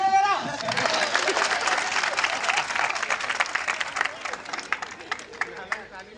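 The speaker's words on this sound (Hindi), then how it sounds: "तालियां से स्वागत करें मेरा।" An audience at an Independence Day celebration gives sustained applause, dense clapping from many hands that stays steady before thinning toward scattered claps at the end, with some crowd murmur underneath.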